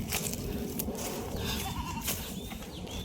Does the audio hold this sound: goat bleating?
yes